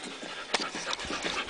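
Dogs out in the desert pant rapidly in quick, breathy bursts, close and fairly loud, with a few sharper huffs and no talking.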